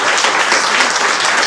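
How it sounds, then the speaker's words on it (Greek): Warm, steady applause from a crowd at an association's New Year pita-cutting gathering, a thick continuous wash of many hands clapping close and loud throughout. "Κυρία Μαρία Κάζου, ένα θερμό χειροκρότημα παρακαλώ."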